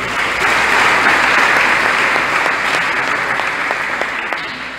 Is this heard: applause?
yes